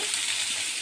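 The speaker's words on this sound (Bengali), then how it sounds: "আমি এখন বাকিগুলো ভেজে নেব।" Pomfret fish fry in hot oil, giving a close, continuous bright sizzle and hiss with no one talking.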